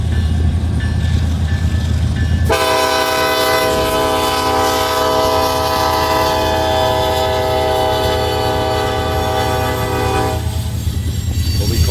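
Eastbound manifest freight train in Fremont, Nebraska, on the former C&NW main line, sounding a loud sustained multi-tone horn for several seconds over rumbling engines and rolling cars, close by.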